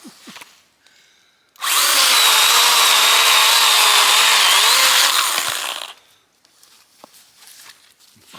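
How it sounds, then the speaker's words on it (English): A Stihl pruning saw cuts firewood for a tarp camp, a loud steady motor whine biting through the wood for about four seconds, with quiet rustling and footsteps before and after. "So I've got one of these Stihl pruning saws."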